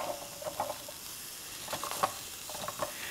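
Pickle soup sizzling and bubbling gently in a canteen cup, a soft continuous crackle with small pops and scattered stirring clinks, quiet and close.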